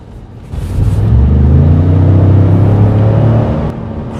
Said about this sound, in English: Great sounding truck, great acceleration.